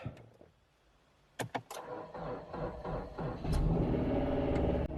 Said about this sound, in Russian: Именно поэтому машина запустилась